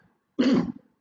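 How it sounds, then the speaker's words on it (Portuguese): A single sudden cough from an adult during a church teaching service, one short loud throaty burst in an otherwise quiet moment, with the start of another right at the end. "deu uma tosse inesperada"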